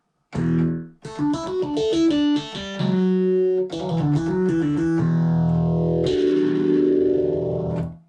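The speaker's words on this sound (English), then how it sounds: "Ooh, that is pretty distorted." A heavily distorted electric guitar plays a series of fuzzy, buzzing notes and chords, then ends on a long, saturated sustained chord.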